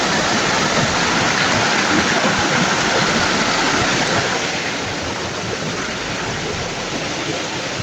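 Water rushes hard over rocks in a stream, a loud, dense, continuous roar that holds steady throughout with no voices on top.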